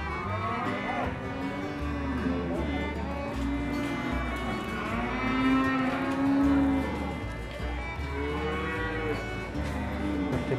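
Simmental cattle mooing repeatedly, several long, drawn-out lows in succession from nearby animals, loud and clear with farmyard background and no talk.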